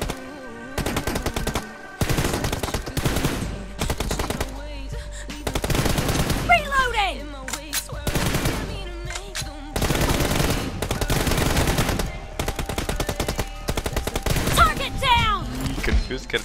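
Sustained automatic rifle fire from an M416 in PUBG Mobile team deathmatch, long loud bursts of rapid shots with brief gaps between volleys, close and dominant, with faint talk mixed in.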